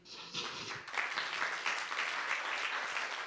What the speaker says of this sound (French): On peut applaudir monsieur